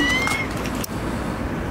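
A cat meows close by, a short, loud call rising and falling in pitch near the start, followed by a sharp click and steady background noise.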